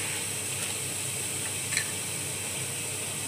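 Vegetables for fried rice fry in a pan with a steady, even sizzle and a faint stirring scrape partway through, close and continuous with no talking.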